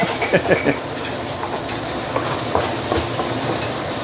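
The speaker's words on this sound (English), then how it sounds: "I can always scrape the bottom like this" A metal spatula scrapes and clatters against the bottom of a stainless steel wok while braising pork leg with herbs, with a steady sizzling hiss underneath and a few sharp scrapes near the start.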